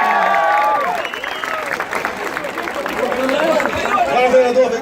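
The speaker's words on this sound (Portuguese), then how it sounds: "A nossa Polícia Militar, uma salva de palmas para ela, Tenente Cleiton." A crowd at a political rally in Sidrolândia, Mato Grosso do Sul, claps and cheers in a steady, dense wash of applause, with a loud amplified voice talking over it the whole time.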